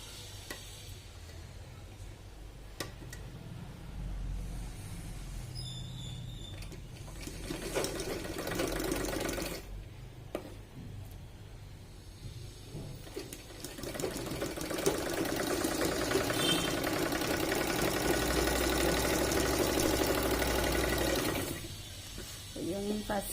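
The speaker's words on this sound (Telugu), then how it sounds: "ఇంక ఇప్పుడు ఈ స్టిచ్ పై నుంచి మార్కింగ్ మీద నుంచి స్టిచ్ వేయాలి." A sewing machine runs steady stitches along a marked line on a blouse of loom-work (maggam) fabric, a continuous mechanical whirr at moderate level with brief pauses between runs.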